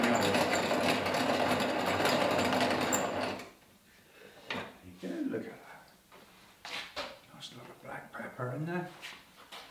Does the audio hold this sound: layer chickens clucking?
no